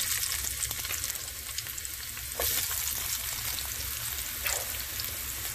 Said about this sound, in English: In this pan I added 1 tablespoon of olive oil, and now it's time to add some mushrooms.